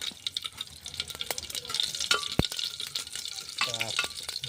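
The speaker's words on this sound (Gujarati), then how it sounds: "તરતર તરતર અવાજ આવે છે વઘાર આવી ગયો લાગે છે" Vaghar tempering spices sizzling in hot oil in a pan, a close crackling hiss broken by sharp pops and spoon scrapes, with faint background noise.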